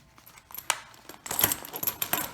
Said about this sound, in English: let me pop these out of the packaging real quick